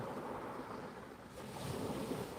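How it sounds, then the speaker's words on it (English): Sea waves wash steadily onto a beach as a continuous soft roar with light wind rumble, faint and fairly distant, with no voices. "sitting by the beach and listening to the sea"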